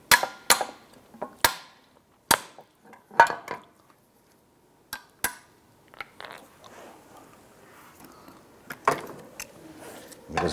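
Sharp metallic taps on a strut compression retainer from a 2001-2007 Ford Escape, a series of separate knocks spaced a second or so apart, then a busier cluster of clinks and scrapes, close and clear with no talking.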